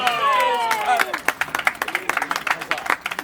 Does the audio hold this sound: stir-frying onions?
no